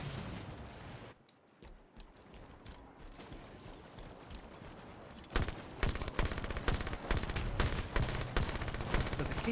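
Halo 5 gunfire in rapid automatic bursts, dense and continuous, with a brief lull of quieter shooting before heavier, louder fire resumes and keeps going to the end.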